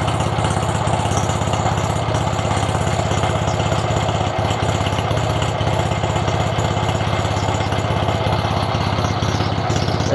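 UD-25 engine fitted with a K-16M carburetor idles steadily, a loud close, even drumming putter running without a break.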